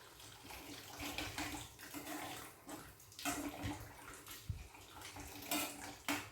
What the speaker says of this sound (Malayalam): ഞാൻ ഇനി ഇച്ചിരി വെള്ളം കൂടെ ഒഴിക്കണം കേട്ടോ. കെറ്റിലിനകത്ത് തിളച്ച വെള്ളമുണ്ട്